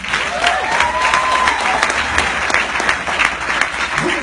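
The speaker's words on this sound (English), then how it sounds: "Let's give this company a round of applause." A crowd at a network marketing company event claps loudly and continuously, a dense patter of hands with a few scattered cheers or voices mixed in, sustained throughout.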